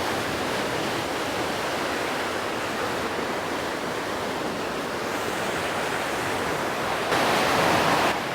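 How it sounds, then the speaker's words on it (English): River current at Renmark, South Australia, rushes in a steady, loud, close wash of water that stays unbroken throughout, with no voices. "You got some current flowing through there."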